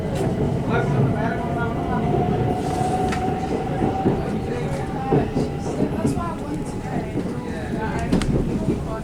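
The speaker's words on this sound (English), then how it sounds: "Welcome aboard the Southern service to Brighton." A Southern passenger train bound for Brighton rumbles into East Croydon station, a steady loud wheel and carriage noise with a long brake squeal, while people talk nearby on a busy platform.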